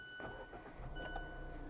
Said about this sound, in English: I'm going to start it up